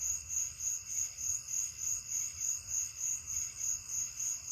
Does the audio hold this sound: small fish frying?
no